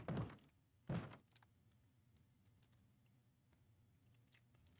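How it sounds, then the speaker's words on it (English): Chewing on Mentos candy, heard as two brief, close, crunchy bursts near the start, then a long near-silent stretch with only faint background. "I'm chewing on Mentos, so I'm trying not to spit it out at the same time"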